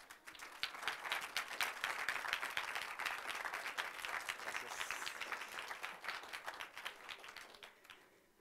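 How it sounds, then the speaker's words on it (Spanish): An audience at an entrepreneurship week talk gives a fairly quiet round of applause: steady, overlapping clapping from many hands that swells early and thins out toward the end. "Démosle un aplauso a Ismael Abarca."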